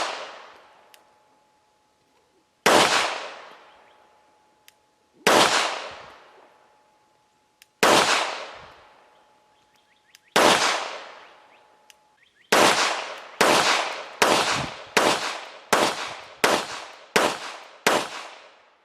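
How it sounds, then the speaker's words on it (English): A Girsan MC 14T pistol, a tip-up barrel clone of the Beretta Model 86, fires at the range: sharp loud shots, first slowly spaced about every two and a half seconds, then a fast string of eight, each ringing out briefly. "We shot over 500 rounds and it just burned through the Fiocchi we were using."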